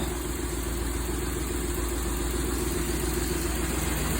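A 1974 Winnebago Brave motorhome's Dodge 440 V8 runs steadily with an aftermarket Demon racing carburetor and MSD ignition, giving a constant, close, even rumble that holds without a break.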